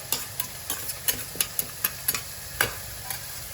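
Cumin and whole spices are stirred in a pan for biryani, with a spoon scraping in a steady rhythm of about a dozen sharp strokes over a soft continuous sizzle, up close.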